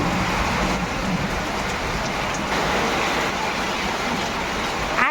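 Steady, dense hiss of rain fills the whole stretch at an even loudness, with a low rumble underneath and no voices.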